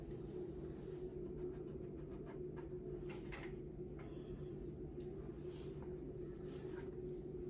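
A razor slices through a section of a woman's hair, cutting from the top down at an angle: faint, quick scratchy strokes repeat over a low steady background hum, close but quiet.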